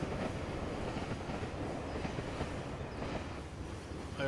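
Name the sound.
train passing in the video game Farming Simulator 17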